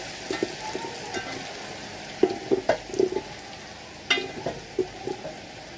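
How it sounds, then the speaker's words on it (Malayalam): Anchovies fry in hot coconut oil, a steady close sizzle with scattered pops and spatters, a few sharper crackles standing out over the bubbling. "അതിലേക്ക് നമ്മൾ ഈ നത്തോലി ഇട്ട് കൊടുക്കുന്നു കേട്ടോ."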